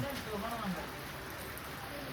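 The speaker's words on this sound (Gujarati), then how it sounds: "ટપ ટપ વરસાદ ચાલુ થયો હોય" Light rain falls in a steady, even patter of drops, moderately close, with a brief murmur of a voice at the very start.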